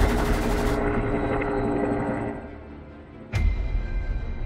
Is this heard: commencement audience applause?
no